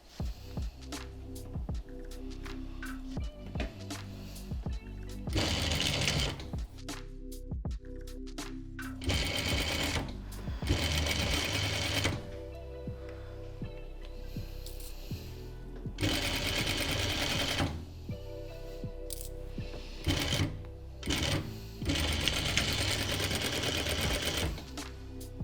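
A sewing machine runs close by as it stitches a homemade fabric face mask, in bursts of rapid mechanical whirring broken by short pauses and light handling clicks.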